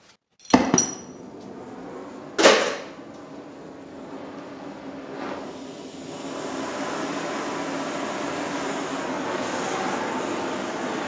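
Two sharp, ringing metal hammer strikes on stuck bolts of a John Deere trip plow, close and loud a couple of seconds apart, followed by a faint tap and a steady rushing background.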